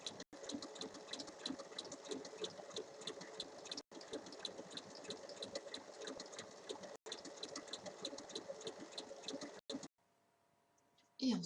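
A sewing machine runs steadily at close range, stitching a zipper onto the fabric of a tote bag in long continuous runs broken by short stops, then falls quiet near the end.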